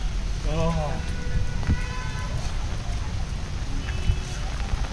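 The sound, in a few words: continuous rain in botanical garden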